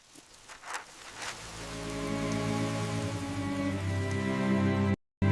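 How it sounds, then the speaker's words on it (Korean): Rain falling steadily at night, a dense hiss of drops that builds from soft patter into a loud, continuous wash, with a brief dropout near the end. "비가 내리는 밤이었습니다."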